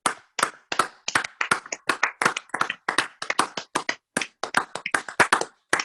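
A small group claps steadily for several seconds, close and crisp, individual claps clearly separated with brief gaps, a few people rather than a large crowd, with no talk over it.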